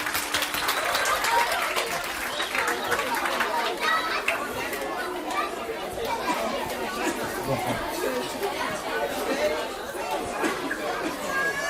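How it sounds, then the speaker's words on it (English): Applause with lively chatter from an audience at a Sunday evening church devotion, sustained for several seconds as voices talk over the clapping. "Give him a clap."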